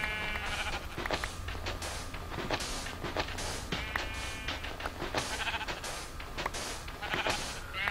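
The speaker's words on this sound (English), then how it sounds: "Shut the fuck up, sheep." Minecraft sheep bleating repeatedly in short nasal calls, one after another at close range, over a low game background rumble.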